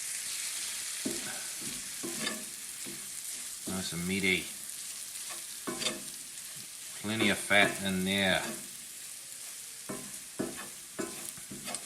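Minced beef frying in a pan with a little added water and rendered fat, giving a steady sizzle and crackle throughout, with louder stirring bursts and someone talking over it.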